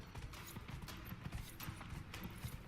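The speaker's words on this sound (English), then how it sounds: "I still wish this horse went faster" Steady, rapid hoofbeats of a galloping horse in the game Dragon Age: Inquisition, low rhythmic thuds repeating evenly throughout without speech.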